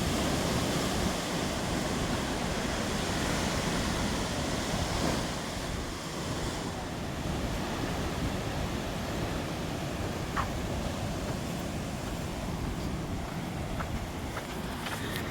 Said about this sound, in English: I can already hear the waves.